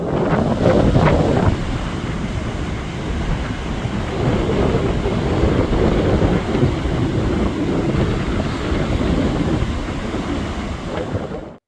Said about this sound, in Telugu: గాలి అయితే విపరీతంగా ఉంది.